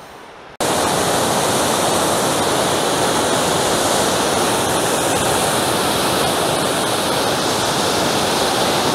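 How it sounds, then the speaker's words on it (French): A mountain waterfall where a resurgence spring bursts from the ground in a high alpine valley, a loud, steady, close roar of rushing water that starts abruptly and continues unbroken. "ce sera la dernière cascade, qui en fait est une résurgence"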